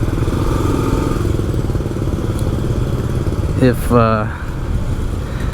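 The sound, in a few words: motorbike ride through Soi Buakhao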